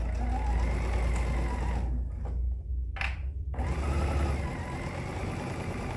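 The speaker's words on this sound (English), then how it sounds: "So I am just doing a basting stitch all the way around that raw edge." A sewing machine runs a long basting stitch around the raw edge of a fabric tissue tote. It hums steadily and closely, stops briefly in the middle, then resumes at the same even pace.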